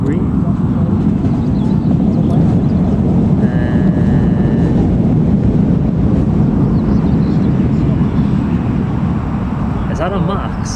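TUI aircraft at Newcastle Airport, a steady loud broadband jet roar rumbling continuously throughout, with wind buffeting the microphone.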